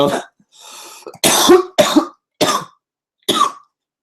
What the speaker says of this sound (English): I got sidetracked by my cough.